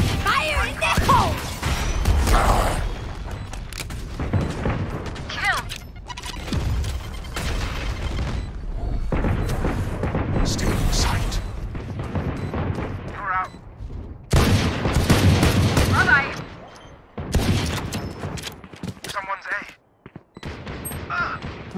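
Gunfire and a grenade blast ring out in a video game firefight, with sharp bursts of shots, heavy booms and weapon handling noises arriving in loud clusters separated by brief lulls.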